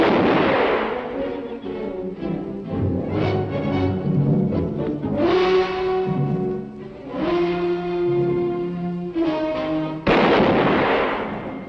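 Gunfire in a 1959 color Western feature film, loud sharp reports cutting through a dramatic orchestral score, one shot near the start and another near the end, with the music swelling between them.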